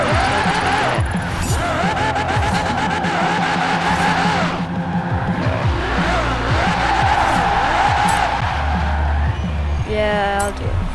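A Ferrari in the video game Forza Horizon 4 drives hard with a loud engine, and its tires squeal and skid repeatedly across several seconds.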